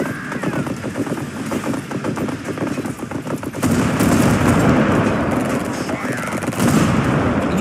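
Unit gunfire in the strategy game Tempest Rising: dense, rapid automatic bursts rattling almost without pause, growing louder and heavier in the second half.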